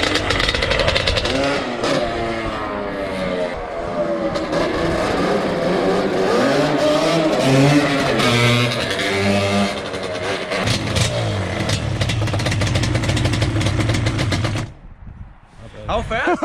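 An old Yamaha Banshee two-stroke engine runs loud and close after an idle adjustment, crackling and revving continuously, with the sound cutting off briefly near the end.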